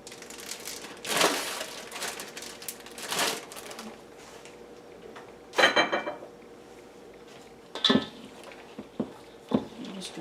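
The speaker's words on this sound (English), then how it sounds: "Mix all this up, and this brings great flavor to the rice" Rice and handfuls of mozzarella stirred together in a bowl for taco rice balls, with several short scraping, clattering bursts of utensil against bowl separated by quieter pauses.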